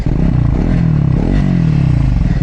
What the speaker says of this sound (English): so this exhaust sound is a little bit different than I think the Speed 400